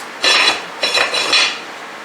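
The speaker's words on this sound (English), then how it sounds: "Put the lid on" A lid is set onto a cooking pot of chicken pot pie dumplings in a home kitchen, giving two or three short, close metallic clinks and scrapes in quick succession.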